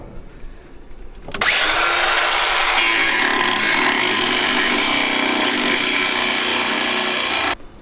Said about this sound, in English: I'm just gonna slice that little bracket right off.